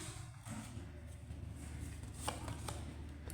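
A deck of tarot cards is shuffled close by in quiet surroundings, a continuous soft riffling with a few sharper flicks near the end, alone without talk.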